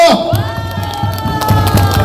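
A large audience at a Korean political rally applauds and cheers after an elderly speaker's speech, a dense steady wash of clapping with a few shouts, loud and continuous throughout.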